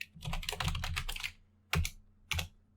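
Typing on a computer keyboard while writing Python code: a dense run of quick clicking keystrokes for over a second, then two separate single key taps after short pauses, close and fairly quiet with no talking.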